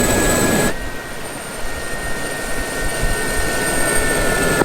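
A Gazelle helicopter in the DCS World combat simulator flies, producing a steady, loud turbine roar with constant high-pitched whine tones that continue without a break and with no voices.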